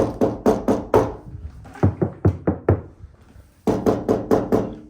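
Two sets of hollow knocks on a 1987 Chevrolet Monte Carlo SS panel, first four dull resonant raps, then a quieter, deader run of five on sound-deadener-lined metal, then a louder ringing group of five.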